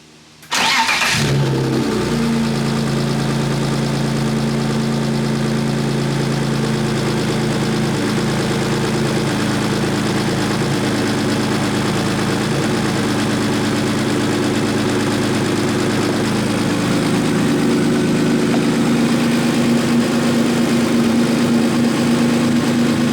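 A rebuilt BMW E36 with an S52 engine cranks briefly and fires on its first start after a full rebuild, then settles into a steady, loud idle with a low rumble that swells slightly toward the end.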